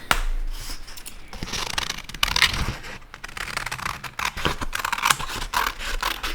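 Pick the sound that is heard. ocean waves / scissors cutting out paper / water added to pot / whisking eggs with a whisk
scissors cutting out paper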